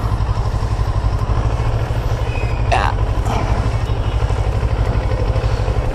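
A CF Moto 400NK motorcycle engine idles in a steady, close, loud rumble with a pulsing throb that continues throughout, while a person talks briefly partway through.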